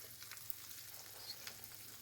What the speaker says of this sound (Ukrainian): Олія добре розігріта і сюди обережно так поміщаємо наші сирні пончики